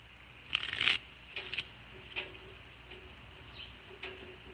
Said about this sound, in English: Still shuffling these cards though.